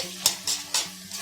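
Spinach is stir-fried in a kadai for a dry palak sabzi, with three or four quick, close spatula scrapes against the metal over a low sizzle.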